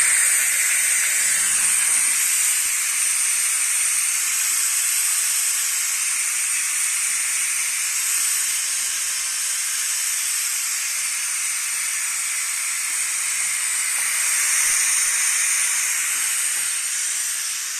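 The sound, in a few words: Tefal multi cook pressure cooker hissing as pressure is released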